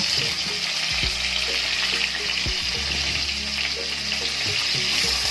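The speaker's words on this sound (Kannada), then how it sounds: "ಎಲ್ಲನೂ ಹಾಕಿ ಸ್ವಲ್ಪ ಫ್ರೈ ಮಾಡಬೇಕು" Stuffed eggplants with spice filling frying in oil in a cooker, a continuous close hiss and sizzle with a few soft knocks, no talking.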